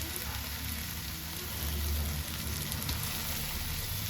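Tomatoes frying in a pan give a steady, close sizzle with soft stirring crackle throughout, and no voices.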